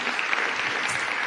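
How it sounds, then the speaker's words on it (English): Applause from an awards-ceremony audience at the KZN Sport Awards, following a gospel choir performance, a steady dense wash of clapping that fills the whole moment without a break. "please give a big round of applause for Alwande Zungu, all the way from Ulundi, and the Devon Gospel Choir"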